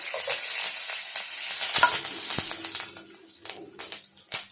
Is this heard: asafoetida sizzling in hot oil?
yes